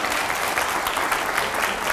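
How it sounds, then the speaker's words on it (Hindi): Steady, dense applause from a crowd, loud and continuous throughout with no pauses. "पहले जोरदार तालियां हो जाएं"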